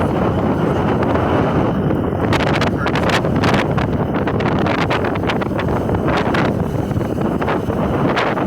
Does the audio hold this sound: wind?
yes